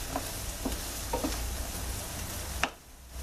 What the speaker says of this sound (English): Now these onions, we're not going to really caramelize them, we're just going to soften these up a bit.